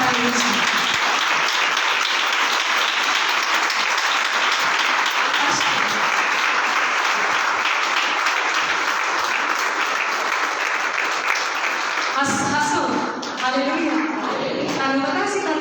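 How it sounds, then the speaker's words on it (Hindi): Loud, sustained applause from a large church congregation, steady clapping throughout with a brief shift near the end as cheering voices rise over it. "सब जन तालियां बजाकर आइए प्रभु के दास के साथ"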